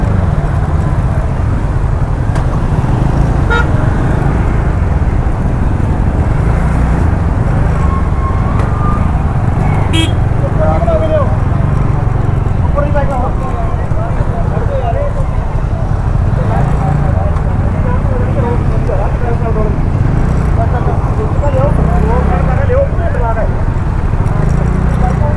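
Vehicles jammed at a single-lane bridge in Punjab create a constant, close traffic rumble of idling and creeping engines, and someone talks over it almost the whole time.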